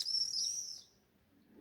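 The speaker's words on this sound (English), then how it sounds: "you hear the sound of the bird today" A bird sings near a flower-filled balcony, one bright chirping phrase up close and clear, then fading into quiet outdoor air.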